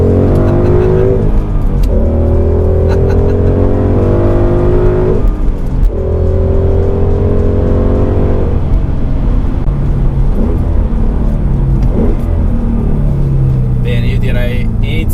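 A Ford Mustang with a 5.0 V8 drives hard, its deep engine note revving up and dropping through several gear changes, loud and close from inside the car, with a person talking over it.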